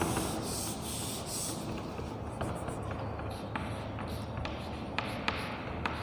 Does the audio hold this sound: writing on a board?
yes